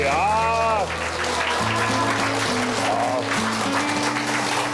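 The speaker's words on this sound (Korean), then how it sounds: "큰 박수 부탁드리도록 하겠습니다" Audience applause for a health lecturer on digestive health at a village gathering in Korea, a steady wash of clapping running under a sustained musical fanfare that plays throughout.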